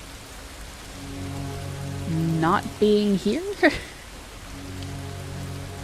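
Steady rain falls in the video game Far From Noise, a soft continuous hiss through the whole stretch, with a voice speaking briefly in the middle over it.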